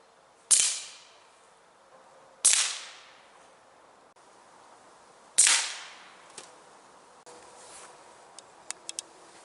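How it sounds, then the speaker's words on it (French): Three sharp, cracking shots from a .22LR rifle fitted with a silencer ring out well apart, each decaying quickly, followed by softer clicks and ticks of the action. "Tir avec silencieux."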